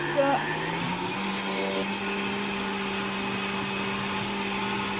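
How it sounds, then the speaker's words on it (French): A kitchen blender runs steadily, whirring through a batter of chickpea flour and soy cream in smoothie mode, a constant motor drone with a brief clatter at the start. "Je vais mettre tout ça dans le mixeur et je mixe."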